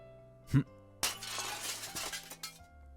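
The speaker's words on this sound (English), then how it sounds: "I smashed the window." A window pane smashed in the visual novel Kinkoi: Golden Loveriche, one sharp crash followed by a spray of shattering and tinkling glass shards, loud and close, over soft background music.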